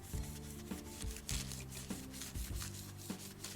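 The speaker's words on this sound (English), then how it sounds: "just very lightly rub up and down the length" Fine 3400-grit micromesh rubbed lightly up and down the barrel of an original Parker 51 Mk1 fountain pen, a soft, close, rhythmic scratching in repeated strokes, quiet and without voices.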